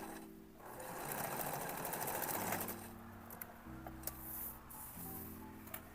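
A sewing machine stitches through denim scraps, a fast, continuous mechanical whirring run that swells and then gives way to a few isolated clicks and taps, close and fairly quiet.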